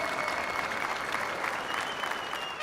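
Steady crowd applause at a celebrity cricket league event following a singer's performance, dense and even throughout, heard from a distance in a large open venue.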